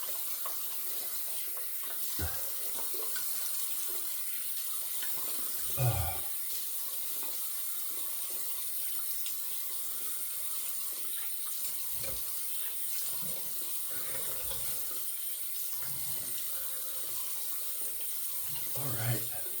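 A bathroom tap runs steadily to rinse a razor after a wet shave, a constant close hiss of water with occasional splashes and clinks as the razor is rinsed under the stream.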